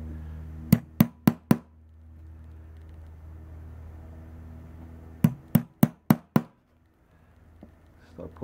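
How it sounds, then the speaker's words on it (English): Hammer striking a leather punch to make holes in leather for a pouch: two quick sets of four and five sharp, loud strikes separated by a pause over a low background rumble. "Get our punch again and our hammer."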